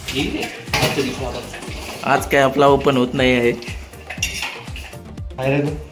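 Pots, pans and cutlery clatter and clink in a home kitchen where biryani and prawns are being prepared, with scattered metallic knocks under close, continuous conversation.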